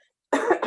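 A single adult cough in a school committee meeting, a sharp burst after a moment of silence, close and loud, followed by a short second hack.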